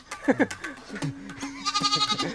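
A goat bleats several times close by, wavering cries with people talking and calling out between and over them.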